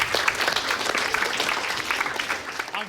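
Mentors at an AIME program event in Australia get loud, close audience applause, a dense, even wash of many hands clapping throughout.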